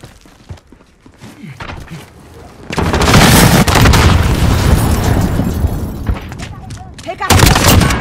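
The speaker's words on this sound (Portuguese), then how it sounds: "Lançando granada! Lançando granada!" Grenade blast in a Call of Duty: Modern Warfare team deathmatch. Quieter battle noise gives way to a loud, roaring explosion that trails off, then another burst follows near the end, with voices in the mix.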